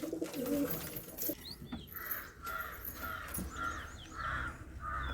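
Pet pigeons kept at home, with soft repeated cooing phrases rising in steady pulses over faint background bird calls and household ambience, at moderate distance.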